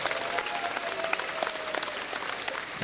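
An outdoor crowd at the final of a Frisian pole-vaulting (fierljeppen) championship applauds a winner, with dense, lively clapping and scattered sharper claps rising and falling, and no one talking over it.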